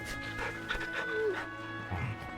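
A dog in Final Fantasy 16 gives short yips and whimpers, close and fairly quiet, mixed in with game music and someone talking over it.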